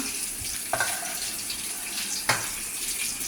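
Cut okra drops into hot oil for sambar and fries with a continuous hissing sizzle, two sharper bursts of crackle breaking through as pieces hit the oil, with no voices over it.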